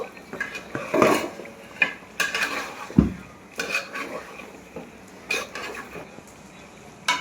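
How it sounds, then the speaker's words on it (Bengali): Spice masala is stir-fried in a metal pan, with a spoon scraping and clinking against the pan in irregular bursts over a faint sizzle. "মশলাটা ভালো মতো কষানো হয়ে গেছে।"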